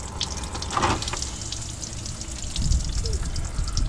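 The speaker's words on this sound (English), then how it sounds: "That is a lot of water." Floodwater pours out of the engine of a flooded ex-California Highway Patrol Camaro, a steady close splashing flow that surges slightly louder at moments, with a brief murmur of a voice.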